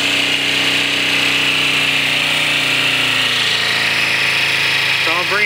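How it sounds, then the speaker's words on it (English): 2007 Kawasaki Ninja 250 motorcycle idling roughly up close, a loud buzzing engine drone with an uneven tone that drops midway, and a voice begins speaking at the very end. "So I'll bring it down to like a decent idle speed."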